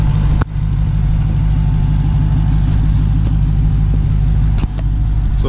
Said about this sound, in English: That's supercharged.